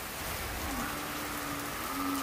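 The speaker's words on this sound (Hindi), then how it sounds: "बारिश बढ़ रही है धीरे धीरे" Steady rain falls and patters on surfaces in an even, continuous hiss at moderate loudness, with no voices over it.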